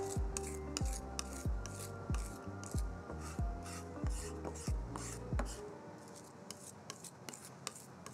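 A knife blade presses and scrapes garlic with salt on a cutting board, making a series of sharp rhythmic crunching strokes close by, then a quieter stretch of faint scraping.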